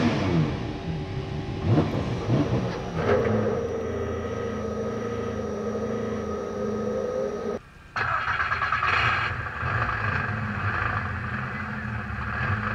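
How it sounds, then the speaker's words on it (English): GTS race car engines firing up together on the grid at Lime Rock Park, a dense layered roar of revving motors that briefly drops out before surging back loudly. "drivers, start your engines."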